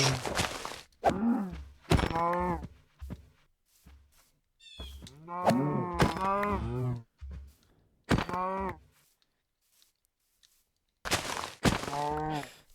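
Cattle in the Minecraft mod Dinocraft moo repeatedly in short, loud harmonic calls, several separate moos spread across the span with quiet gaps between them and no talking over them.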